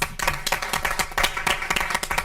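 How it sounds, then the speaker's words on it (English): An audience at a school board of education meeting applauds students, steady dense clapping throughout, fairly loud and close with a roomy indoor sound. "So let's give our THS students another round of applause."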